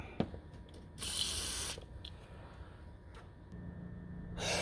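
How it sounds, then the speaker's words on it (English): Two bursts of aerosol penetrating fluid sprayed onto the manual transmission drain plug of a 1996–2000 Honda Civic, a long hiss followed later by a shorter one starting, close and fairly quiet with faint background noise. "I'm going to give it a shot of penetrating fluid"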